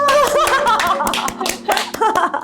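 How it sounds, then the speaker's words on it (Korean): A studio audience claps to welcome a guest onto a talk show. Scattered, close hand claps and smacks mix with voices and a little laughter in a short burst. "박수 한번 맞이해볼까요?"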